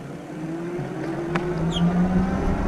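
An ENGWE X20 heavy-duty off-road electric bike pulls away at full throttle, its motor giving a steady rising whine over a low rumble of wind and road noise, with no one talking.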